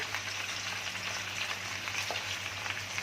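Homemade sausage sizzles steadily in a hot frying pan, a close, continuous crackling hiss with a faint scrape partway through and no talking.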